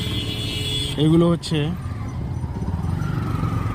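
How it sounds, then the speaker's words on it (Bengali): Tourist vehicles pull up in a line at Canning station. A low rumble of road traffic is punctuated by one short, loud horn blast, while a person talks over the vehicle noise. "এই ট্রেনে নিয়ে যাওয়ার জন্য এই গাড়িগুলো এসে এখানে দাঁড়াচ্ছে"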